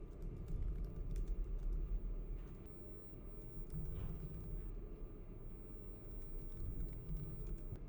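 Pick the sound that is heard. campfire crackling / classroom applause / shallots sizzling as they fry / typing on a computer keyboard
typing on a computer keyboard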